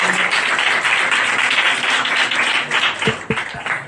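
A church congregation applauds loudly and steadily, dense clapping filling the room for several seconds before thinning near the end, with a few sharp knocks close by.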